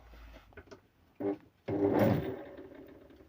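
Electric motor from a washing machine, model ABE-071-4C, wired for reversing, switched on with a click and thump, then spinning up into a steady whirring hum, close and alone.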